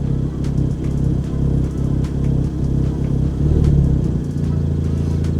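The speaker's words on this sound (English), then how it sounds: "My car just got stuck in a weird ass idle just now." A car engine caught in an odd, uneven idle, a steady low rumble with a brief surge in pitch and loudness before settling back, close and continuous with no talking.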